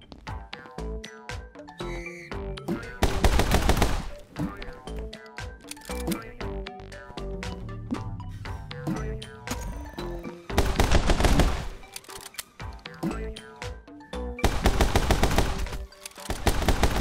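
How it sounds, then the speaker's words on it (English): Frantic gunfire from the PC action game My Friend Pedro: rapid repeated bursts of shots over driving electronic music, with several louder, denser volleys. "He just emptied his whole magazine and not hit me at all."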